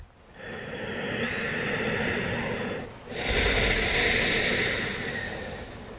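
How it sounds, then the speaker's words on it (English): Slow, deep breaths during a seated chair yoga session for anxiety, a long airy inhale, a brief pause near three seconds, then a second long breathy exhale, close and steady with no talking. "Take two more deep breaths."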